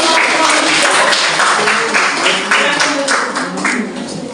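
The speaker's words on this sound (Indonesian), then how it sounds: "kita berikan aplaus untuk" An audience applauds presenters at the end of a class presentation, a steady wash of clapping that gradually tapers off, with some voices mixed in.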